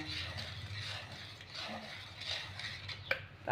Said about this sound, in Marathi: आता हे आपण व्यवस्थित असं मिक्स करून घेऊया